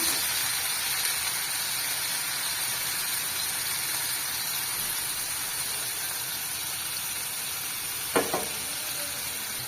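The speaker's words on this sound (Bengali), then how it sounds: "এইবার আমি ভাজি নেবো মশলাটা" Ginger, garlic, cumin and dried chillies with potatoes frying in oil in a pan give a steady, dense sizzle throughout, with a brief stirring clatter near the end.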